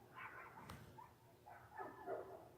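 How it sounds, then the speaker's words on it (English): Several dogs barking at a distance outside a trailer at night, faint and muffled, a few scattered barks with yips across a couple of seconds and no talking. "There's dogs barking."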